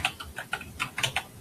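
Fingers type on a computer keyboard in a terminal window, a string of quick, close keystrokes in uneven bursts with short pauses between, and no one speaking.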